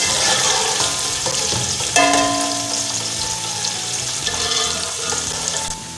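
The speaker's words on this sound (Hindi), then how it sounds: "प्याज को हम ब्राउन करेंगे।" Chopped onion frying in hot oil or ghee in a cooking pot, a steady loud sizzle throughout with a few clinks and stirring scrapes, no talk.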